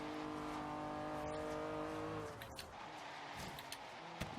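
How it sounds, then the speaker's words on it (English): Tires squealing on a Honda NSX with a Rocket Bunny bodykit and stock tires, turning hard while street racing in Forza Horizon 3. A loud steady engine drone turns into rougher skidding noise partway through. "the stock tires are really noticeable when turning that hard"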